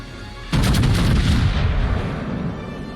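Main battery turrets of the battleship North Carolina fire a salvo in the naval game World of Warships, a single loud, deep boom that rumbles and slowly fades over a couple of seconds.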